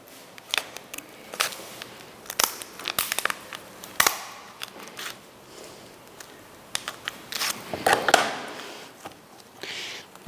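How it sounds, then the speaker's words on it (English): Hard lobster shell is cut through in a series of irregular crunching, cracking snaps, some sharp and isolated, others in short clustered bursts, fairly close and without talk. "The shell is very hard. Cut it all through"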